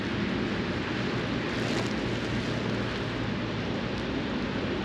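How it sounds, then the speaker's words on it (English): Rain falls steadily on a river during a fishing trip, a soft continuous hiss with a low rumbling undertone and no talk. "Just started raining, kind of out of nowhere."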